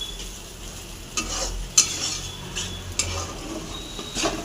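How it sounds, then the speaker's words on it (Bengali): Spice paste with green chilies being stirred and fried in oil for a fish curry, with a soft continuous sizzle and a few sharp scrapes and clinks of a spoon against the pan. "মশলাটা ভালো করে ভেজে নেব, পুরো তেল ছেড়ে যাবে তবে করব।"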